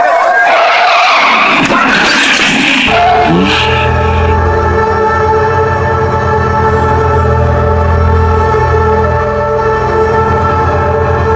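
Car tires skid loudly with a harsh screech, then a sustained droning roar of a truck in a crash effect runs to the end, with brief talk over the start.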